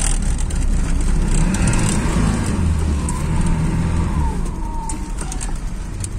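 A car with a GAZ-402 engine and K88 carburetor pulls away in second gear, its low engine drone steady and close throughout, with faint birdsong in the background.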